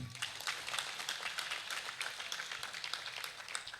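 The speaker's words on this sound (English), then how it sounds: "You will do that round of applause again." An audience applauding at a formal Nigerian public relations unveiling event, a faint, continuous round of scattered hand claps that holds steady throughout.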